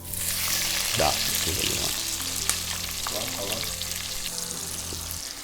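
Onions sizzling in spiced oil in a heavy-based pan for butter chicken curry, a loud continuous fry with stirring scrapes, under brief male speech.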